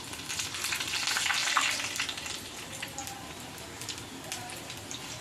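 Bitter gourd leaves fry in a pan of oil over a medium flame, a dense crackling sizzle that swells briefly and then settles into a steady hiss, close and alone.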